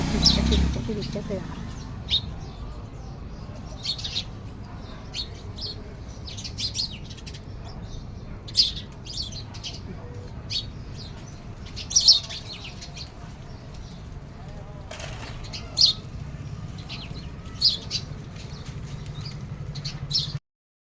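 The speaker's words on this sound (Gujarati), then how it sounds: "હો, ચકલીઓ છે." Small birds, house sparrows among them, chirp in scattered bright bursts around an outdoor feeding spot, fairly faint against a low background hum while someone talks through most of it.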